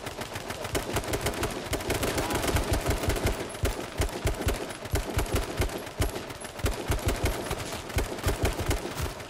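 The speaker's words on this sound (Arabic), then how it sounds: "في اطلاق نار" Rapid automatic gunfire rattles in bursts during a match of the video game H1Z1: King of the Kill, loud sustained volleys with brief gaps between them.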